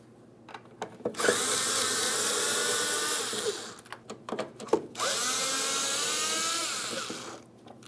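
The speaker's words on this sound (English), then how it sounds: "We're using a T25 Torx to remove each one of our screws." A power driver with a T25 Torx bit whirs in two long, steady bursts while backing out screws on a tail light assembly of a 2015-2025 Ford Transit 250, separated by clicks and handling noises.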